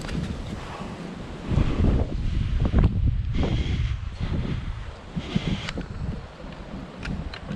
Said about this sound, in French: il y a un vent de fou aujourd'hui